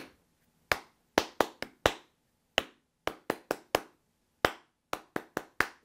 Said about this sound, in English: put the pick down, try and clap it.